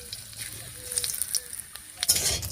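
Whole cumin seeds and dried red chillies crackle and sizzle in hot mustard-style oil left from frying snakehead fish, with quiet spattering pops building to a louder burst near the end, a voice faint beneath.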